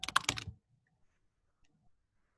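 A quick burst of typing on a computer keyboard while a username is entered, a half-second cluster of close, crisp key clicks followed by near silence with a few faint taps.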